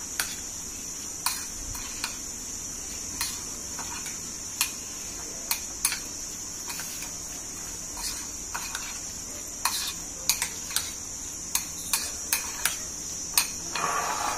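A spoon mixing mayonnaise and ketchup in a bowl, sharp irregular clinks and taps against the side, repeated steadily over a constant high hiss.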